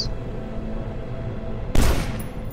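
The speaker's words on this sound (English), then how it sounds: "Oh, explosions!" A sudden loud blast from explosions in the first-person shooter video game Dusk, punching in over steady droning game ambience and rumbling on for a moment after the hit.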